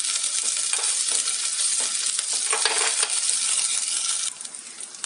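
Chopped garlic and ginger fry in a tablespoon of hot oil over a low gas flame, making a dense, steady bright sizzle with faint crackles. It eases slightly near the end.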